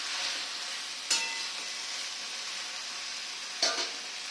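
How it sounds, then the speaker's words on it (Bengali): Food fries in a pan with a steady, soft sizzle as a spatula stirs it, two sharp scrapes or knocks against the pan standing out from the constant hiss. "খুন্তি দিয়ে একটু নেড়ে চেড়ে নিচ্ছি।"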